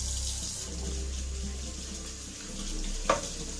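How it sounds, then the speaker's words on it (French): Tap water runs steadily into a sink while aquarium parts are rinsed with a sponge, a soft continuous hiss with a brief splash near the end, fairly quiet and without speech. "Donc je vais rincer avec l'éponge."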